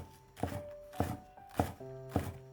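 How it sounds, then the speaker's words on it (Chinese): A knife chops green onions on a cutting board in four spaced, solid thunks about half a second apart, fairly close, with soft tonal music underneath. "切成葱花"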